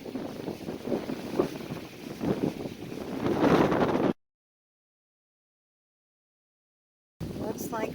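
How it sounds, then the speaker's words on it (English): Strong, steady wind roars and buffets the microphone for several seconds on a trail at Fort Pulaski, cutting to silence, then returning briefly at the end. "Super, super windy."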